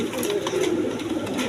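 A pigeon at a breeding farm coos in a brief low rolling call, close by and steady, over the murmur of other birds.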